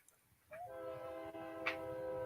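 A passing train picked up through a microphone, its horn sounding as a sustained tonal blare that starts abruptly and holds steady over low rumbling, fairly faint and distant, with no talk.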